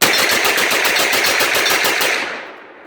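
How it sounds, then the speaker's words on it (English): Rapid gunfire at a range from an AR-type gun fitted with a Tac Con trigger: a loud, dense, continuous stream of shots for about two seconds, then fading off. "Look at that ammo stream out of the gun."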